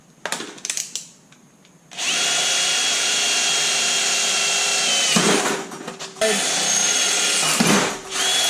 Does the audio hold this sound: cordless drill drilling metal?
yes